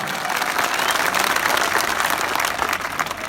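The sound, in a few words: crowd applause at political rally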